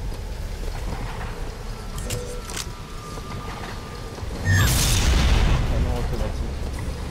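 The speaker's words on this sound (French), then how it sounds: "Canon automatique." A loud burst of rapid automatic cannon turret fire kicks in partway through, booming and rattling over a steady rumbling soundscape in BioShock Infinite.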